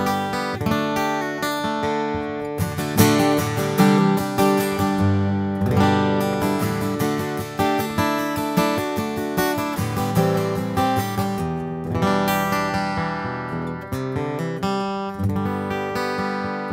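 Strummed acoustic guitar through a Stage Pro Anthem pickup blended 50-50 with its microphone, EQ flat and volume full, playing continuous bright chords up close without any voices.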